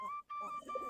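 Native desi Giribaz pigeons coo close by during morning feeding on paddy, soft repeated tonal calls with a brief pause, alone with no talk.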